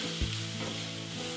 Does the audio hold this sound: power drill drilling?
no